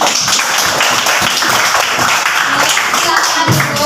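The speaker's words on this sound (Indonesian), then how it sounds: "Tepuk tangan." An elementary class of third and fourth graders claps together in a loud, dense burst, with children's voices mixed in.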